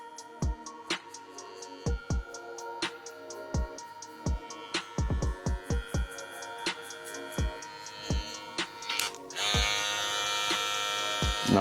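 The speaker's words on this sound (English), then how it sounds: "Clipper close, I'm going to take off the bottom line." Electric hair clipper cutting a high taper fade, a steady faint buzzing hum broken by many sharp clicks and taps, rising to a louder buzz near the end.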